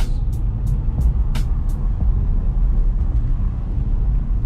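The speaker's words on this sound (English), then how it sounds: "The transmission is much more aggressive, the exhaust gets a little bit louder." A McLaren sports car drives in Sport Plus mode, a continuous low exhaust and road roar heard from inside, with several sharp clicks or ticks early on and no talking.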